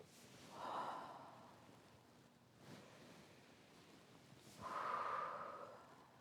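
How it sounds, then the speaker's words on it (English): Slow, deep breaths during Baduanjin qigong practice: two soft, airy breaths several seconds apart, quiet and close, with a faint breathy hiss between them and no talking. "3 breaths."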